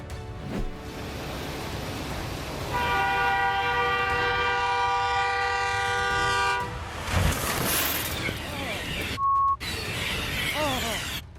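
A subway train pulls into a station in Japan, a steady rolling rumble with a sustained multi-tone horn-like chord in the middle and a brief sharp beep near the end, heard close by without talk.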